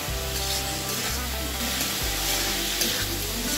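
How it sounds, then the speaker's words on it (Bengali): Potatoes and elephant foot yam sauté with spices in a pan in a village-style kitchen, giving a steady close sizzle and frying hiss with stirring scrapes at regular intervals, alone without talk. "নিয়ে আমি ভেজে রাখা আলু আর ওলগুলো দিয়ে দিচ্ছি। দিয়ে আমি এখন ভালো করে কষিয়ে নেব।"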